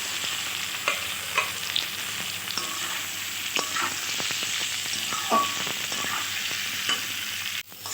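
Taro pieces frying in hot mustard oil in a pan, giving a steady close sizzle with scattered crackles and pops and occasional stirring clatter, with no talk.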